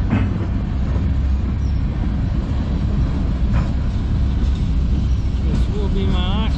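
A loud, continuous rumble of a CN manifest freight train hauled by CN 2237 and CN 8806 locomotives rolling past up close in Sarnia, Ontario, with rhythmic rail clatter and a high squeal near the end.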